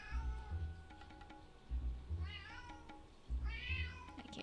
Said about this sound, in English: you can hear the cats meowing